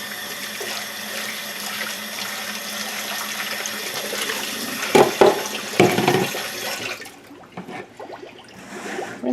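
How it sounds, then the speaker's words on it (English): Water running from a tap as a bowl is rinsed out, a steady hissing stream with a few clunks and splashes of the bowl before the flow cuts off. "I'm going to rinse out my bowl first."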